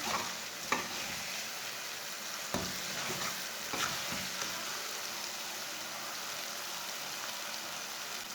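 Tomatoes cooking in a pan for a chicken pota dish, a continuous soft sizzle with occasional sharp scrape or stir clicks, close and steady with no talking.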